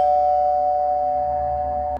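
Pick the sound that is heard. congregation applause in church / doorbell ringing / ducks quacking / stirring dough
doorbell ringing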